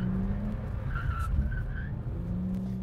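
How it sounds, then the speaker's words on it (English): A car drifts through a turn on a handbrake entry, with tires skidding and squealing over a steady engine drone, close and continuous. "Get your foot on the clutch, push it in, handbrake, counter steer, clutch kick, and then just power through the turn on throttle"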